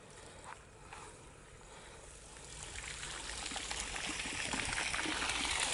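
Water flowing steadily along an irrigation channel outdoors, a continuous broadband rush and trickle that grows slightly louder and fuller over the clip, with no talking.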